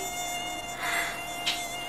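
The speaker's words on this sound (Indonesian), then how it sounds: "Kok di rumah jadi banyak nyamuk gini sih?" Mosquitoes buzz inside a house with a thin, steady whine, which swells briefly and then comes in close with a short, sharper pass near the end. No voices are heard.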